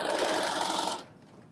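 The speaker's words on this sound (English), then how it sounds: "So I'm going to sew this" A sewing machine stitches fabric with a steady, fast whirring hum for about a second, then stops abruptly and leaves near silence.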